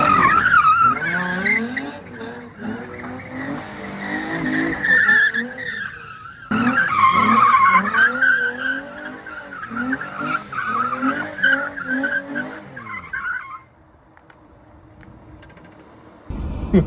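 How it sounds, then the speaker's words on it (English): Nissan 350Z spinning donuts in a parking lot, tires squealing and skidding continuously over a revving engine for about thirteen seconds, then the squeal cuts off, leaving a quieter idle. "cut a couple donuts here in the lot"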